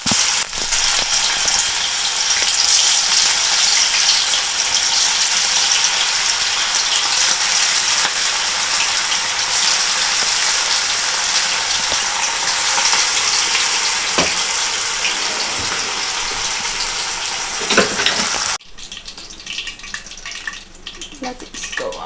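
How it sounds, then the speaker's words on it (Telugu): Chicken pakodi, marinated and chilled, drops into hot oil and deep-fries with a dense, steady, loud crackling hiss that holds for most of the stretch before cutting off abruptly near the end to quieter room noise. "చికెన్ పకోడీ వేస్తుంది, సిమ్లో వేసుకొని నూనె వేసుకోవాలి."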